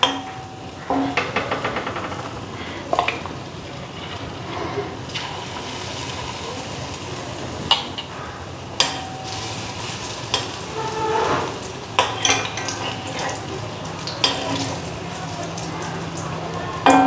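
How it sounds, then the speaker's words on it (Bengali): Fritters sizzle steadily in hot oil in a home kitchen, a constant frying hiss with occasional spoon clinks and scrapes against the pan as pieces are turned, while a voice talks intermittently over it. "এখন চামচটা দিয়া বড়াগুলি দেখো কি সুন্দর ফুলটা উঠছে।"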